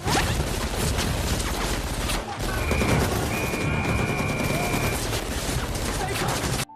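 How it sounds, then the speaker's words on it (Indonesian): Bursts of gunfire crackle through a film shootout as Vietnamese rebel soldiers attack a camp, dense overlapping shots filling the scene loudly along with whooshes and impacts, ending abruptly. "menyerahkan binder kepada Kapten Mora, tiba-tiba pasukan tentara pemberontak Vietnam menyerang kem mereka, sehingga baku tembak pun tidak terhindarkan lagi"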